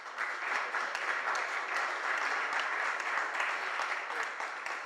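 Audience applause at a talk on Peruvian cajón craftsmanship, a dense, steady wash of many hands clapping that fills the room evenly from start to finish without pause.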